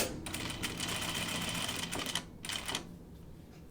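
A sewing machine runs close up stitching a French seam on a caftan, a fast steady whirring rattle that briefly pauses and restarts, then stops near the end, with no talking.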